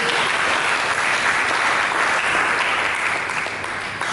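A church congregation bursts into sustained, dense applause, loud and steady for the full few seconds.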